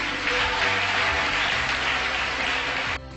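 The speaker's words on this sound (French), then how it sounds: "Applaudissements pour les membres du jury." Sustained applause from an audience at a gala for jury members, dense and steady clapping filling the room before easing off at the end.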